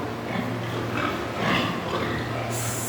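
Pigs grunting softly in a barn over a steady low hum from a working exhaust fan, a few oinks rising now and then at close range.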